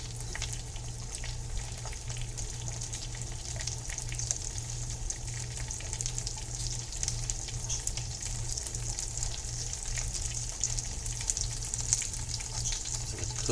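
A jalapeño popper quesadilla fries in butter in a pan, crisping with a steady, even sizzle. The close crackle holds constant throughout, with no talking over it.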